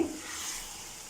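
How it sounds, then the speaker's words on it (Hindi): Spices are stirred into a tomato masala in a pan, giving a brief, faint scraping and soft sizzle that fades slightly over about a second, with no talking. "अब इसको अच्छी तरह जो है वो हम मिक्स कर देंगे।"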